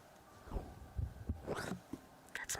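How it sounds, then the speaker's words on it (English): A real human heartbeat picked up close on a binaural 3Dio microphone, with several soft low thumps at an uneven pace, quiet and muffled. "That's my real heartbeat."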